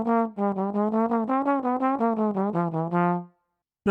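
A double-time bebop trumpet lick of quick, evenly tongued notes that climb and fall over its first bars, played alone and up close before cutting off.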